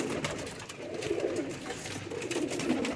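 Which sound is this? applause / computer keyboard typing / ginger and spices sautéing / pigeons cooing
pigeons cooing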